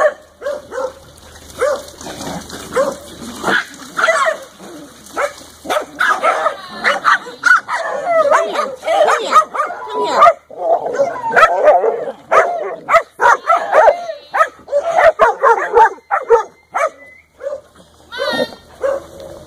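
Dog barks, yips and whimpers in a small room, sounding loud and close in repeated uneven bursts, with a person speaking between them.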